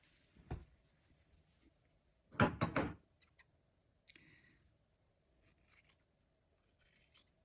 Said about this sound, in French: On va couper avec les ciseaux sans couper dans la couture